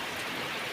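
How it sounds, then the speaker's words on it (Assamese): Steady rain pours down in a dense, even hiss of drops, close and unbroken for the whole short stretch, with no voices. "চাব পাৰে আপোনালোকে, বৰষুণ কেনেকৈ দি আছে দেখিছেনে"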